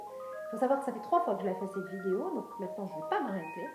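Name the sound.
mobile phone ringing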